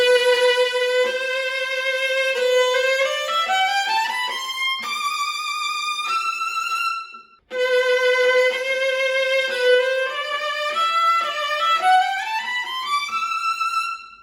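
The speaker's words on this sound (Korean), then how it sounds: "비올라 주법을 사용해 보겠습니다." Bowed viola using proper viola technique with the bow's weight pressed into the string, playing rising runs of sustained notes in two phrases split by a short pause, close and clear with no talking.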